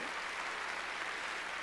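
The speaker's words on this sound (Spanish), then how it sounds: "démosle palmas fuertes al Señor" A church congregation gives a burst of steady, dense clapping, many hands together at full volume, with no voices over it.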